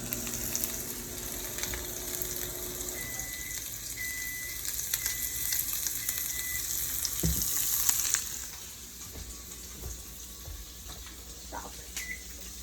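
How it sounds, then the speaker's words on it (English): Salmon and onion frying together in a pan, a steady loud sizzle that continues for about eight seconds before dropping to a quieter crackle, with a few scrapes and clicks nearby and no talking. "We're waiting for the fish and the onions to cook."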